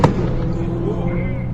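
A turbocharged Golf's exhaust bangs once, sharp and loud like a gunshot, heard from outside the car at a race circuit, followed by a rumbling engine tail.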